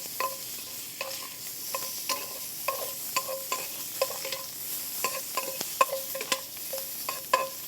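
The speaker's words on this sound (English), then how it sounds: "So you just want to saute the lobster." Lobster meat sautéing in a hot pan gives a steady sizzle, broken by a run of sharp utensil clicks and scrapes as it is stirred. No one speaks.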